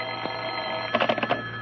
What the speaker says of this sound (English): the other day the phone rang and...